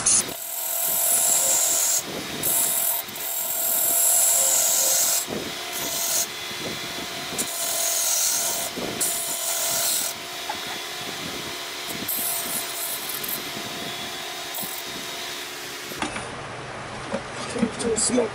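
Wood-turning scraper cutting a spinning maple vessel on a lathe, a steady hissing scrape with the lathe's hum beneath, broken by short gaps as the tool lifts, and a change in sound near the end.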